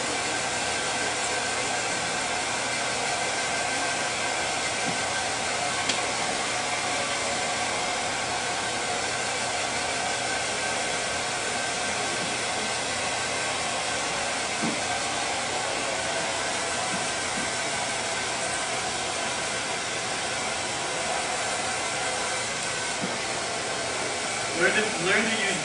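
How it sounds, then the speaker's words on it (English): A hair dryer blows steadily and loudly while drying a short haircut on a salon stage, a constant airy roar throughout with only small shifts as it moves across the head. "Stay focused when you blow dry."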